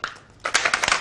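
Jamie Oliver Flavour Shaker crushing basil leaves, garlic and a pinch of salt: a short tap, a pause, then a burst of rapid rattling knocks as the ceramic ball pounds the ingredients, close and fairly loud.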